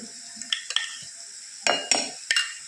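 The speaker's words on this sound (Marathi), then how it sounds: "हे छान आता आपल्याला असं मिक्स करून घ्यायचं आहे" Maida flour being mixed by hand in a small bowl, heard as a few soft scrapes and taps followed by three louder clinking stirs against the bowl, close and with no talking.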